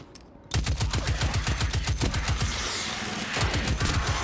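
Rapid automatic gunfire from a weapon in the video game Destiny 2, a loud sustained burst of closely spaced shots that starts abruptly and runs steadily with a short change in rhythm midway.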